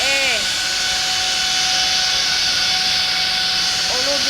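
Airplane jet engine on a runway in a flight video game, a loud continuous roaring hiss with a whining tone, held steady throughout.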